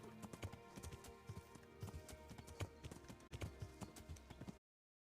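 Rhythmic hoofbeats of a horse galloping in a video game, crisp repeated clip-clop strikes over a steady game soundtrack, the pattern running evenly until it cuts off abruptly before the end.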